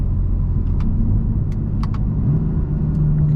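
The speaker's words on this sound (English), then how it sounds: "That's about as much highway driving as we're gonna get." A 2018 BMW M4 cruises on a city highway, heard from inside as a steady loud low rumble of engine and road noise with a few faint ticks and clicks over it.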